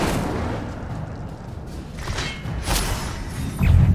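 Incendio fire spell cast in the game Hogwarts Legacy, heard as a dense roar of booming, whooshing bursts that swells toward a heavier thud at the end, with overlapping impacts from combat.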